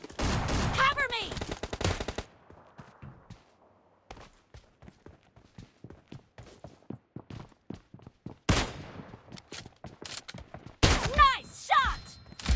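Gunfire in the video game PUBG Lite, with bursts of automatic fire and single shots scattered across the clip, loudest in dense volleys near the start, middle and end, amid game effects and footstep-like thuds.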